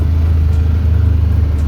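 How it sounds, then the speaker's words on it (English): Vehicle driving along a road through a burnt-out fire area, a steady low engine and road rumble heard close and continuous with no talk. "Okay, we're driving through."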